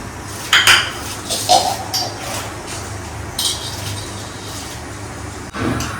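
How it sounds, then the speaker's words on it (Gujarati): A knife chops cabbage for a salad in a home kitchen, giving a few sharp, scattered clicks and knocks over a low, steady background hum. "તો અત્યારે હવે હું કોબી સુધારી રહી છું"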